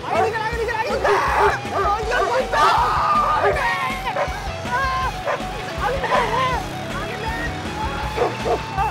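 Several dogs bark and yip loudly and fast as they chase someone, with excited people shouting and talking over the barking.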